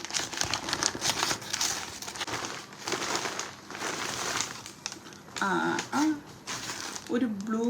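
Plastic packaging on a Myntra clothing parcel crinkles and crackles as it is torn open, close and fairly loud in bursts, with a person talking around the rustling.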